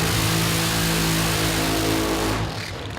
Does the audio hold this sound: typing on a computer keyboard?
no